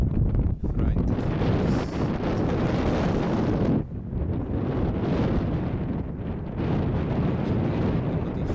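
Strong storm wind buffets the microphone in loud, continuous roaring gusts near a cornfield, with a brief lull midway before the blustering resumes.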